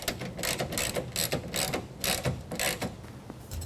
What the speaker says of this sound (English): we're going to set the rear clamps using a 1/2 inch ratchet or wrench